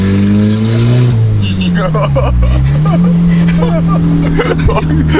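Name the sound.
straight-piped VW GTI exhaust burbling and revving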